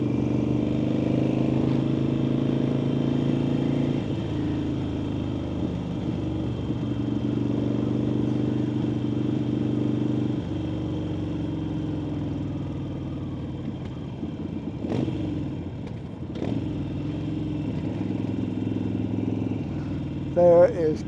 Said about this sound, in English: There is bikes.